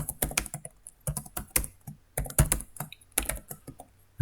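Rapid, uneven clicking of keys as integers are typed on a computer keyboard, close and crisp with short bursts and brief pauses, no talking.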